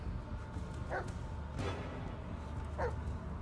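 A dog in the video game Blair Witch gives two short yipping barks about two seconds apart over a low, steady ambient rumble.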